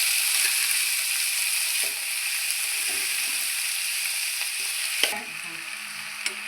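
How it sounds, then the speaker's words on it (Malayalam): Fish peera stirred in a pan with fried mustard seeds gives a steady bright sizzle, with a few scraping knocks of the spoon against the pan, close up and with no talking. "എല്ലാ മീനും ഇട്ട് നന്നായി ഒന്ന് മെല്ലെ ഇങ്ങനെ ഇളക്കണം"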